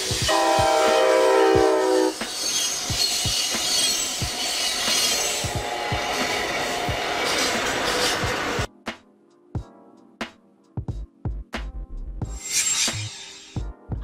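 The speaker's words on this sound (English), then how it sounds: "Intercity train." An intercity train rumbles past with a rhythmic clatter of wheels over rail joints, then the roar drops away to sparse clicks and a loud horn blast sounds near the end.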